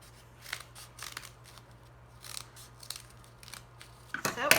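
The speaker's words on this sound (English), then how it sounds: "I'm gonna fold my paper a few times, and I'm gonna go ahead and cut a triangle" Scissors snip through folded paper to cut out a triangle, giving several soft, close cuts in short bursts over a quiet background, with one louder rustle at the end.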